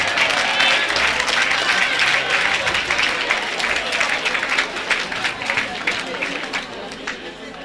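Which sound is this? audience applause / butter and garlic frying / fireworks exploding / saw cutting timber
audience applause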